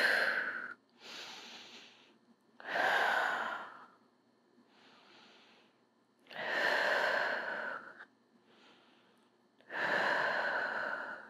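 Slow, deep breaths during a prenatal yoga session for hip strengthening, with four long airy exhalations and softer inhales between them, close and clear with no talking.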